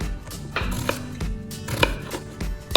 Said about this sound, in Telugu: స్లైసెస్ చేశాను, దాన్ని డైస్ చేస్తున్నాను.